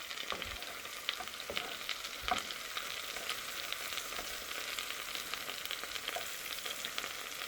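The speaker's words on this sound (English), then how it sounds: "I'm frying banana again" Banana slices fry in a pan with a constant, moderately quiet sizzle and occasional faint pops and spatters, with no talking.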